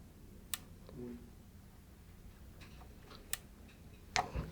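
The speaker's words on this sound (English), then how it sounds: "turn it counterclockwise until you feel resistance or hear a clicking" The differential calibration potentiometer on a MultiPoint II level switch gives a few faint, sharp clicks as it is turned, spaced seconds apart in a quiet room.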